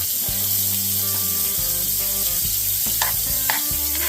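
Wagyu steak sizzles steadily in melting butter in a pan, a loud continuous frying crackle with a few sharper spits near the end and no talking.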